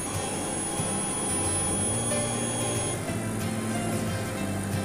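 A 60 watt 6040 laser cutting machine works on wood with a steady, moderate hum and whir of fans and motors, with faint shifting tones as the head moves.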